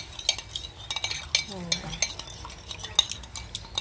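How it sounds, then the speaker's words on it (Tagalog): A pork barbecue marinade of calamansi, ketchup, pepper and sugar is stirred with a spoon in a bowl, giving quick, uneven clinks and scrapes, close and fairly quiet. "Haluin lang natin to."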